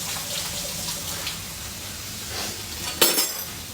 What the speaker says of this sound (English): just giving a little wash to my hand